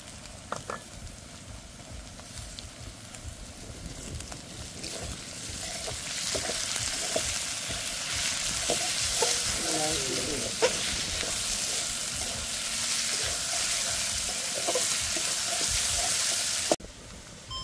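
Garlic paste and whole garlic cloves frying in hot oil for a Bengali fish curry with small mud eels: a steady, fairly loud sizzle that swells after the garlic goes in, with occasional utensil clinks, then stops abruptly near the end.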